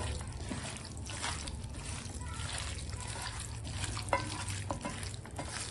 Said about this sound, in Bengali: আমি মাংসটা সুন্দর করে একবারে মাখিয়ে নিই